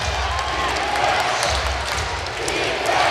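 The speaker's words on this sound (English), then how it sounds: "Crowd is chanting top, defense." A lacrosse arena crowd chanting for defense late in a close indoor game, a dense, steady roar of many voices filling the space, loud and continuous, with an announcer talking over it.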